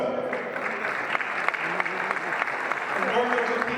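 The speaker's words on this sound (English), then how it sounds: "feel free to give a round of applause when these names mentioned" An audience applauds boxing champions as their names are announced, a steady wash of clapping throughout with a speaker's voice continuing over it.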